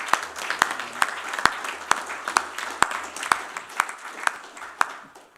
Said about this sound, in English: So I would just like to give a round of applause for all the speakers